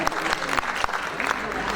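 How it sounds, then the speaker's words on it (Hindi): Audience applause at a Hindi literary award ceremony honouring writers, a dense wash of clapping with speech mixed in throughout the short burst. "एक बार तालियों के साथ अभिनंदन अभिवादन"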